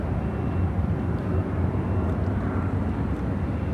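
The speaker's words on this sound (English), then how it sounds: "Airlines 1922 taking off to Pittsburgh on the A319" An Airbus A319 taking off from Chicago O'Hare bound for Pittsburgh, a steady rumbling jet engine roar that holds at a moderate distance with no voices.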